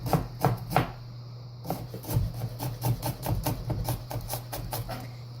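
Knife chopping ingredients for chili on a cutting board, a run of quick, close, uneven taps and thuds with short pauses between bursts, heard alone over a low steady kitchen hum.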